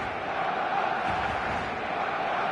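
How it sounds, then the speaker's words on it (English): Steady expectant crowd buzz fills a stadium in the football game eFootball 2026, a constant dense murmur of many voices with no pauses or standout cheers. "There's a real expectant buzz in the stadium"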